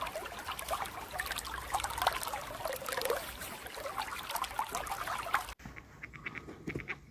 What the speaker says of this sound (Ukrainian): Тече струмочок.